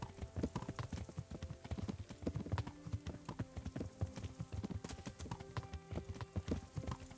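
Horse hooves clip-clop at a steady trot in the video game Kingdom Come Deliverance, a continuous rhythmic patter of close hoofbeats that carries on throughout with faint ambient sounds behind it.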